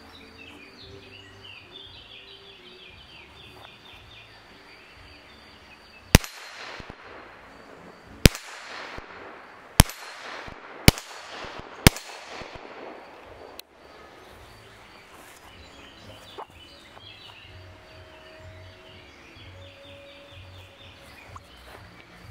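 Five sharp cracks from a Huben K1 .22 air pistol firing GSB Jumbo Heavy pellets at maximum power, spaced one to two seconds apart over quiet outdoor ambience with faint birdsong.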